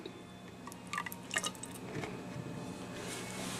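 In a physical science lab, water trickles and drips from a small graduated cylinder into another cylinder. The pouring is quiet and close, with soft splashes and a steady liquid wash, and no one talks.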